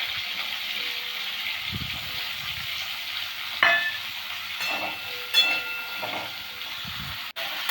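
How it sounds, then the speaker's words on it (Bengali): Paneer, cauliflower, carrots and beans fry in oil with a steady broadband sizzle, close and continuous, broken by a few soft knocks and stirring sounds, with no talking. "পনিরটা অল্প ভেজে নিচ্ছি ওই তেলেতেই ফুলকপি গাজর বিনস"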